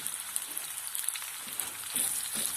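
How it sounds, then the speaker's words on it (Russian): Onions sizzle in a generous amount of oil in a pan, a steady bright crackle with no talk, slightly rising near the end. "Я налила масло, ну так побольше, чтобы лучок хорошо зажарился."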